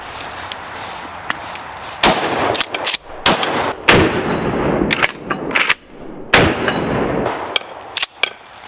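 Rifled 12 gauge slugs, 2 3/4 inch, 1 ounce, fired from an 18.5 inch Remington 870 shotgun at a bulletproof vest: loud, sharp blasts ring out across the stretch, each a booming crack with ringing echo and clatter trailing between.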